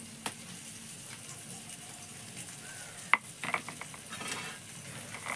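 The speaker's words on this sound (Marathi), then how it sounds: "आपले हे बघा मासे फ्राय होत असत" Bangda mackerel pieces frying on a wood-fired clay stove: a soft, low sizzle with a sharp utensil tick and a few light scrapes, fairly faint and without voices.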